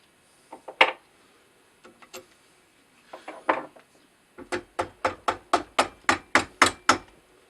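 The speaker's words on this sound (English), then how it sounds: "A plastic hammer." A plastic hammer taps a metal rotary table chuck, first a few scattered knocks, then a steady run of about a dozen evenly spaced, crisp, close strikes.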